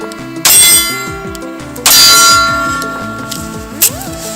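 9mm rounds from an S&W M&P Shield pistol strike a steel target outdoors. Three sharp metallic clangs land about a second and a half apart, each ringing out and fading, with the last one shorter.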